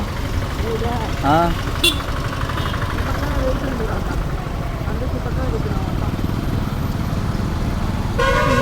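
Busy road traffic in Mydukur, a constant engine rumble with a couple of short car horn toots near the start and another honk at the end, while people talk over the noise.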